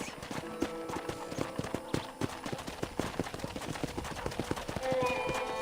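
Steady clip-clop of horse hooves trotting at an even rhythm in Red Dead Redemption, fairly close, with a faint tonal sound near the end.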